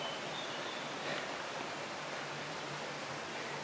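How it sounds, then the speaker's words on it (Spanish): The Fonfría stream in Villaviciosa, Asturias, flowing near an old watermill, gives a steady, soft wash of running water, constant and even throughout with no voices. "Y está ya la riega de Fonfría."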